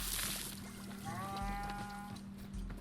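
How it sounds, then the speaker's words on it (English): A cow moos in the background of the video game Wanderstop, a drawn-out lowing call under a steady low hum of game ambience, with no talk. "Hearing that cow mooing in the background is just such, it's just good, man."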